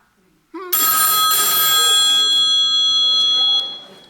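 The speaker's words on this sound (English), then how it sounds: "Isn't that where the phone bell rings?" A telephone bell rings with a loud, bright, continuous metallic trill for about three seconds, close and clear, cutting off abruptly; a brief voice comes just before it.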